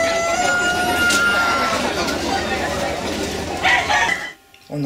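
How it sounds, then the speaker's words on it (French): Roosters crow and squawk at a cockfight amid a loud, dense crowd din, with shouting voices and clucking throughout, ending in a brief lull. "il y a combat de coqs."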